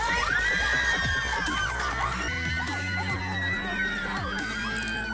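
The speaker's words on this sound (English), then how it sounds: "And you could tell this is a fake crowd." A staged crowd of paid actors gasps and screams together, a loud, continuous mass of overlapping shrieks and shouts held close throughout.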